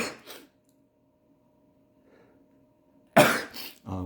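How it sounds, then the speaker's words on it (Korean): An allergy sneeze bursts out sharply and loudly near the end, followed by a second smaller burst, after a quiet stretch with only faint room noise. "제가 한기 알러지 때문에 되는 거는 재채기가 나오네요"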